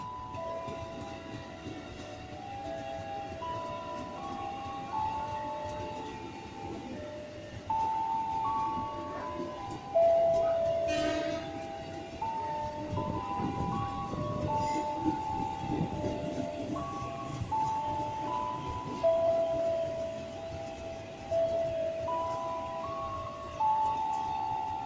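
An electric commuter train at a busy railway station rolls past with rhythmic wheel clatter, an ongoing melodic tone sequence and a brief horn, while a station announcement voice echoes over the platform.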